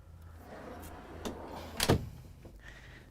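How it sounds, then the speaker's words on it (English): A single sliding door in a motorhome, for the washer-dryer closet, slides along its track with a short rolling whoosh and a soft thud at the end, close by in a quiet room. "over here we have a sliding door, and this is for your washer dryer."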